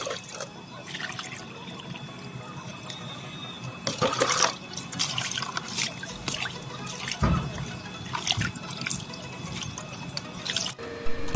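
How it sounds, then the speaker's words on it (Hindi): Water drains through nail-punched holes in a homemade flower pot, making steady trickling and dripping with occasional louder splashes and gurgles. It sounds close and fairly soft, and no one speaks. "अब देखिए हमने पानी भर के इसमें चेक कर लिया है, पानी इसमें सारे छेदों में से निकल रहा है।"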